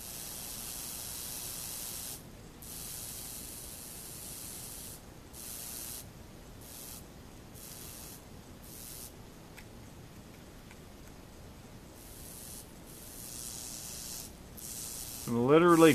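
Acid etching solution sizzles on a steel knife blade, a crackling, bacon-like hiss that cuts in and out in short stretches over about sixteen seconds and ends in a louder burst.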